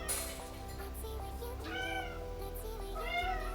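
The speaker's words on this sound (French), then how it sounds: "Ça va pas miauler comme ça." A house cat meows several times in a row, the rising and falling cries close by over a steady low hum indoors.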